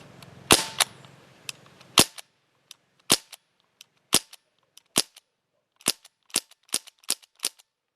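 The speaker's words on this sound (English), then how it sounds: "I guess that was 47 shots, and that was 48." Crosman 1077 CO2 air rifle firing a string of sharp, close pops, about a dozen shots at irregular intervals that speed up toward the end, each crisp crack standing alone against near silence.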